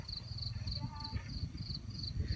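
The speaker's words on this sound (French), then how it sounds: "est-ce que vous entendez les grillons?" Steady, repeated high-pitched cricket chirps pulse in short bursts over a low rumble of outdoor background noise.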